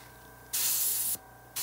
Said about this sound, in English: I'm just gonna test out the spray pattern here a bit.